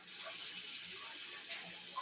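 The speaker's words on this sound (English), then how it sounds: "Let me rinse off my hands." Steady tap water running into a sink while hands are rinsed, a close continuous hiss and splash with faint shifting gurgles.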